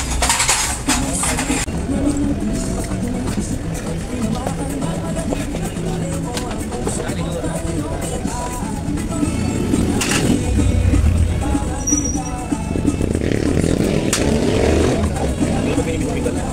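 Yamaha Sniper motorcycle with an error 46 overheat warning, its engine running at a steady idle with a few rises in revs, under someone talking.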